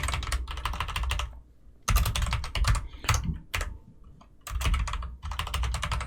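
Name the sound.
computer keyboard typing code for a Unity tutorial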